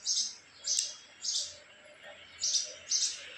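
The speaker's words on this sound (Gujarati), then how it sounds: "ચકલી પણ બોલી રહી છે।" Sparrows chirping on a morning before the monsoon, five bright bursts of twittering spaced at regular intervals against a quiet background.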